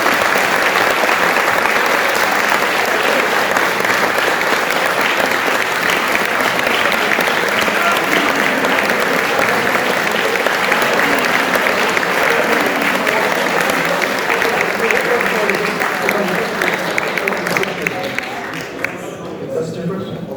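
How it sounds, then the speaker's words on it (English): An audience applauds the in-person jury at the IMC 2022 closing ceremony. The clapping is dense, loud and sustained for about twenty seconds, then thins slightly near the end. "let's give an applause for all of the in-person jury"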